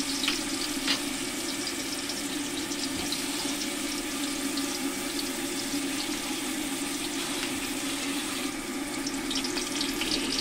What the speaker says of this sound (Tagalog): Magsasote lang tayo ng bawang, sibuyas, at saka luya.